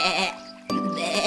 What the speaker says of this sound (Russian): Чеверон, Чеверон, коза Манюк.